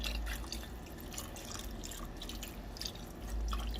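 Beef broth pours from close by into a pot for Jamaican-style oxtails, a soft continuous liquid trickle and splash, fairly quiet with no voices.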